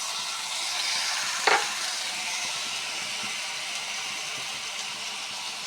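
Chopped garlic, onion and soy sauce fry in a pan, a loud continuous sizzling hiss with one brief spatula scrape early on, close up and without talking.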